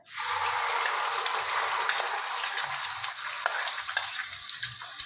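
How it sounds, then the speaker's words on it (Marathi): Egg curry masala poured into hot oil bursts into a loud, close sizzle that holds steady as it fries and is stirred, with faint scraping underneath. "हे पहा मस्त भाजायला लागले आपलं"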